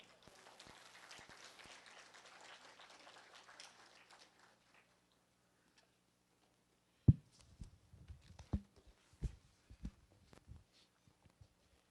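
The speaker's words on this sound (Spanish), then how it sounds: "Recibámoslos con fuertes aplausos, por favor." An audience at an international law congress applauds to welcome a speaker: a few seconds of fairly faint, dense hand clapping that fades out, followed by scattered footsteps and taps in a quiet hall.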